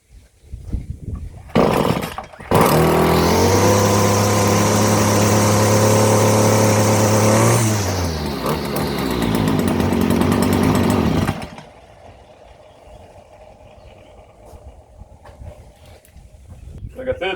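A Stihl FS 56 RC weed eater starts with pull-cord tugs, then its small two-stroke engine runs loud and steady up close, changes pitch, and cuts off to quiet.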